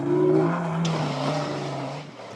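A race car arrives at the finish of a Welsh rally stage, its engine note loud and close and rising briefly in pitch before it settles and fades slightly.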